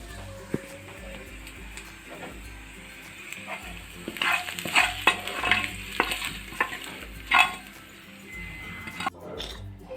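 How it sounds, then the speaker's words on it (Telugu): A hot tempering of oil and curry leaves sizzles and crackles as it is stirred and tipped into buttermilk, a busy close fizz with clinks and scraping that swells in the middle, with no talk. "తాలింపు వేగిపోయింది. మజ్జిగలో వేసేసుకుందాం."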